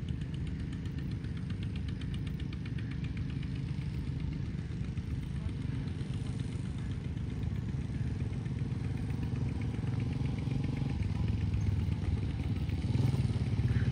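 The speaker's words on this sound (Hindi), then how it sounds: "जनरेटर जो है ना वो धड़ाधड़ चल रहा है" A generator and diesel engines run steadily beside rice fields, a dense continuous low engine drone with a faint knocking clatter that holds at an even level throughout, with quiet voices beneath it.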